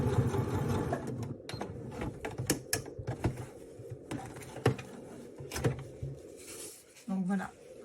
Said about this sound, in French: Nous voici à la machine à coudre pour donc coudre notre fermeture.